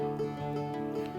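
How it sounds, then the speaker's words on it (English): Piano sounds in sustained, resonant tones with a few gentle new note attacks, quiet and continuous over about a second. "Piano."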